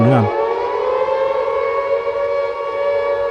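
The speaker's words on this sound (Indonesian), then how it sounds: "tentunya sudah tidak sabar lagi mendengar sirine khas ala kota Silent Hill yang akan menggema" A loud, sustained civil defense siren wails in a long steady tone after a brief rising start, filling the clip with no other sound.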